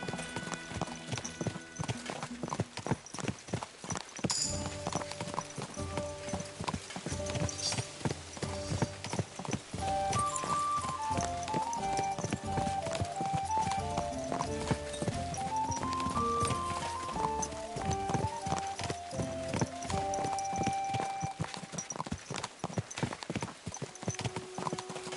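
Steady clip-clop of horse hooves walking at an even rhythm throughout, close by, with a musical melody playing underneath, in Kingdom Come: Deliverance 2.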